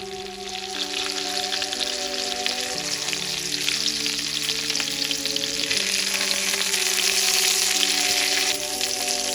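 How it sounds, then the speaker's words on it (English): Chicken breast sears in a hot pan for chicken Florentine, giving a steady, loud, close sizzle that runs without a break, with soft background music underneath and no talking. "Sear it for 4 to 5 minutes per side until it's beautifully golden brown."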